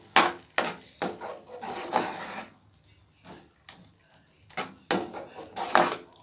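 Spoon scraping and stirring coconut paste through Tamil-style salna in a pan for bun parotta, a series of close wooden knocks and scrapes in uneven bursts with short pauses between.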